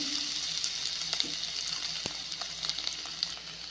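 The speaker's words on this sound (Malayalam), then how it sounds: "എണ്ണ ചൂടായി അതിലേക്ക് ഇഞ്ചി" Ginger fries in hot oil for a crab curry, a steady close sizzle with a few light clicks and one sharp tap partway through.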